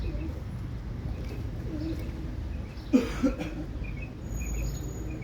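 Butterfly pigeons coo faintly, with a couple of short, soft coos against quiet background noise.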